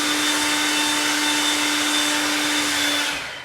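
An electric blower dries a horse's hair during grooming, giving a loud, steady whooshing roar with a constant whine that holds evenly and then fades out at the end.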